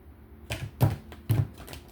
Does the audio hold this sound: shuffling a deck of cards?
yes